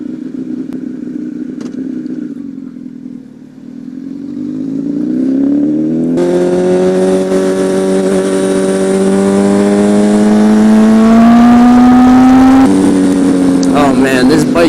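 A superbike motorcycle accelerates hard on a ride, its engine note climbing steadily in pitch through a long pull, dropping at a shift, then rising again, loud and close with wind rush.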